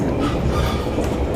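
A scenic train from Dunedin to the Taieri Gorge rumbles steadily along the rails, a continuous low roar with faint rhythmic clatter and a touch of metallic squeal, close and loud.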